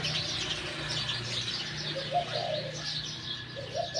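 Spotted dove coos repeat in soft rhythmic phrases at moderate distance, with light chirps and a bird's background hum around them, no talking.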